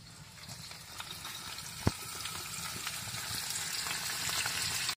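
Flour-coated mojarra fish frying in hot oil in a ranch kitchen: a dense, crackling sizzle close by that holds steady and swells slightly louder toward the end, with no talking.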